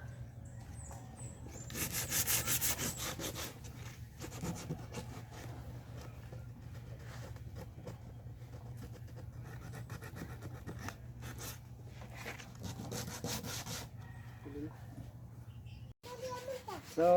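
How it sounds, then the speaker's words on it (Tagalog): Steady scratchy rubbing of sandpaper sanding off old paint, repeated strokes at close range, fairly quiet. "So matanggal ito yung dati na pintura. So lilihain muna natin."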